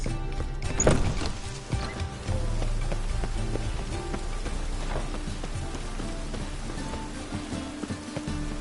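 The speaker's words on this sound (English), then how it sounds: "It just rains and rains." Steady rainfall in the video game The Witcher 3 Wild Hunt, a continuous, fairly loud wash of drops on surfaces that runs for the whole stretch with no talk over it.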